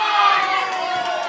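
A wrestling crowd roars and cheers loudly and continuously as Shawn Adams beats up Sabotage at the JCW X-Treme Games 2025 match, a dense, steady wash of voices that swells slightly near the start.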